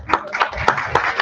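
A few people clap at a national science and engineering conference to honour a guest, a short run of distinct, sharp handclaps about every quarter second, close and fairly loud.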